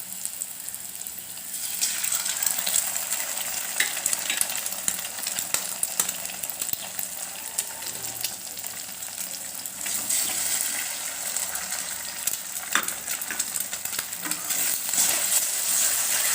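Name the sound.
eggs frying with chopped onion and tomato in pan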